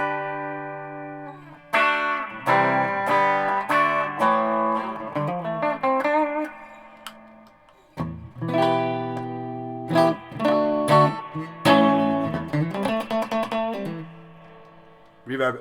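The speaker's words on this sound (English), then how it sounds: "Reverb, so if I put the reverb at half," A Peavey ValveKing VK112 guitar combo amp with its reverb set to half plays a loud run of strummed and picked chords and single notes, with notes ringing out and decaying between phrases; no talking.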